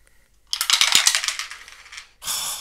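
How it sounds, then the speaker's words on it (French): Three dice clatter and rattle across a hard surface during a Defenders of the Realm board game, a quick burst of clicks, then a second short rattle follows after a brief pause. "Donc, je lance 3 dés pour le nain."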